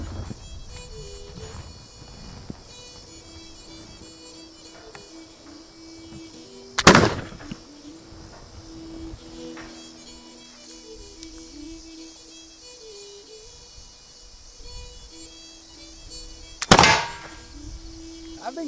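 A 250-year-old .70 caliber Twigg flintlock pistol, a large-bore smoothbore handgun, fires two sharp, loud shots about ten seconds apart outdoors, each with a short decaying report over a faint low background.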